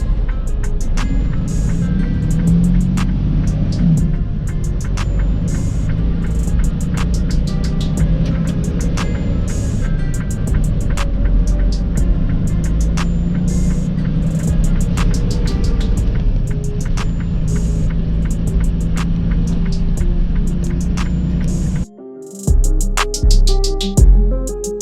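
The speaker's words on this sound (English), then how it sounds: "Sheesh, look at all this traffic." Heavy highway traffic on the 105 East makes a constant, loud road rumble heard from inside a vehicle, with faint regular ticking, until the sound shifts abruptly near the end.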